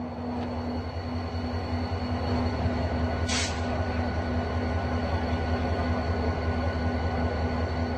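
A train rumbles steadily at a station in Oujda, eastern Morocco, with a constant low hum and a brief high squeal partway through.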